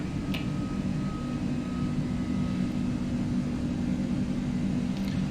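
An Aerosoft Airbus A330 at climb power in the Prepar3D flight simulator gives a steady, even engine roar with a low hum and a faint whine, unbroken and with no talk.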